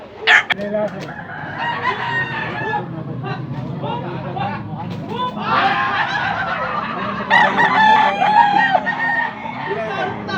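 Several roosters crowing nearby at a fowl sale, long rising calls overlapping one another, with clucking and other fowl noise in between.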